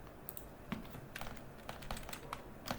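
Computer keyboard keys clicking while working in an MS Excel spreadsheet, several sharp separate taps spread over a few seconds, close and quiet with no voices.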